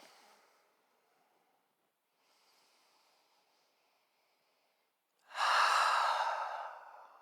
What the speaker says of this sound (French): Belle respiration.